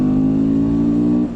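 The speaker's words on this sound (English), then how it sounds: "how I made the sound of my bike so bassy" A Honda CBR 250R motorcycle with a bassy exhaust accelerates nearby on an Indian road, a loud steady droning engine note that holds and then drops off at the end.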